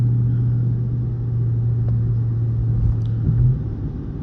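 A Dodge Charger R/T cruising at the speed limit, heard from inside as a steady, loud low engine drone with a constant hum and road rumble throughout and a slight shift near the end.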